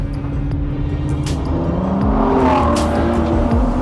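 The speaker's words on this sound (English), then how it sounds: "But you can put it in first gear and turn the stability control off and floor it." A Ford GT in first gear with stability control off accelerates hard, its engine note climbing steadily and loud and close, with rising harmonics sweeping upward as it pulls.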